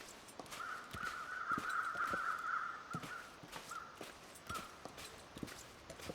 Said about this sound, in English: I hear the crows. Crows mean a body.